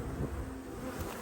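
A brief, steady hum of many honeybees flying around an open hive during a spring check, soft and continuous with no voices.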